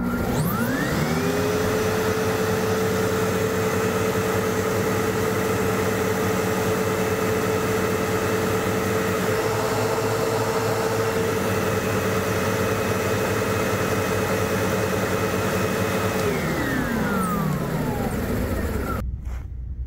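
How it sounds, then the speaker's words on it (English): Vacuum cleaner with its brush roll working at the highest setting on thick carpet, running loud and steady with a motor whine for most of the stretch, then winding down and cutting off near the end. "you're not going to want to just leave the vacuum sitting on the floor"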